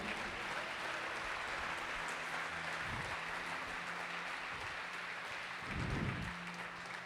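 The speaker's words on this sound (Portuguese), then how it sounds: "Dê uma salva de palmas a Ele bem forte." Church congregation applauding together during a worship service, a steady broad wash of clapping that holds evenly throughout, with low hum and a few brief louder swells underneath.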